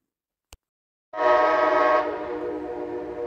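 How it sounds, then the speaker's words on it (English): The Amtrak Cardinal passenger train arrives at the Thurmond depot and sounds a long, loud horn blast after a faint click, the horn fading slightly as it holds. "Here she comes, the Amtrak Cardinal from Chicago."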